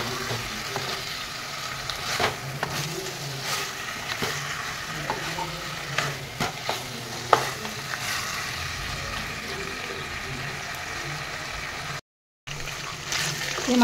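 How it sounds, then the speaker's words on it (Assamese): Duck meat frying in a pan with ginger garlic paste, stirred with a spoon: a steady close sizzle with scraping and clinking strokes throughout, one brief dropout near the end. "এই মাংসখিনি মই অলপ টাইম এনেদৰে ভাজিলোঁ"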